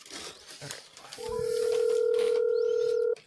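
A phone call is placed: after a few seconds of background talk, a steady ringing or dial tone rises and holds loudly for about two seconds, then cuts off.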